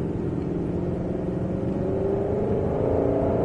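Ford Mustang GT500 pulling hard on the Mettet race circuit, a steady loud engine drone with rising pitch as it accelerates out of a corner, continuous and close throughout.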